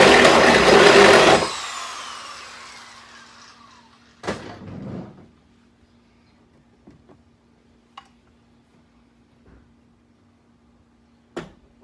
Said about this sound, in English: So I'm going to have to drill out my hole.